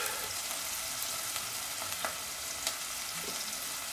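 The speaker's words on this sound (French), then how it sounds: "Pendant ce temps-là, nos échalotes fondent." Chopped shallots gently sweating without browning in a saucepan, a soft, even sizzle with faint occasional ticks and pops, quiet and close, no talk.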